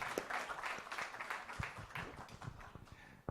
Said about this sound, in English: we must give a round of applause